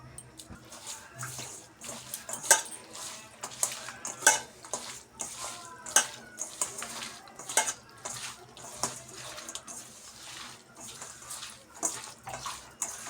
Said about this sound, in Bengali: এখন দিবে লবণ আর হলুদ দিয়ে মেখে নেবে মাছটা ভালোভাবে